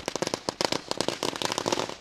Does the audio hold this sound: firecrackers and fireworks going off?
yes